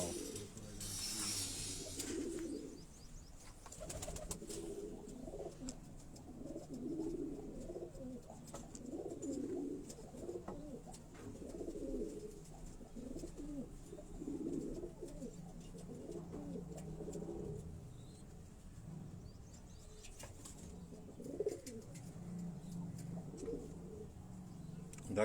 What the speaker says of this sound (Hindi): तो दोस्तों ये कसूरी कबूतर हैं,